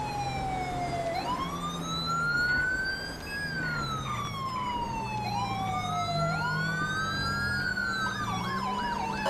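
A police car siren from the LSPDFR police game wails continuously, sweeping up and down in long cycles with a faster yelp pattern later, loud and steady throughout.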